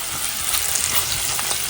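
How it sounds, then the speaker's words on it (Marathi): Garlic and curry leaves fry in hot oil with a steady, loud crackling sizzle, a dense hiss that holds throughout with no voices. "आता आपली लसूण आणि कढीपत्ता चांगला करपलाय"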